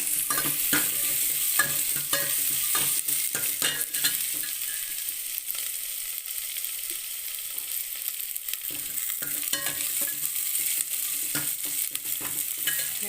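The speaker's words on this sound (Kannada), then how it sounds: "ಒಗ್ಗರಣೆ ಮಾಡ್ತಾಯಿದ್ದೀನಿ ಈಗ." Onion and curry leaves sizzle in a hot pan for a sambar tempering, a loud, close, steady hiss broken by frequent stirring scrapes and light crackles throughout.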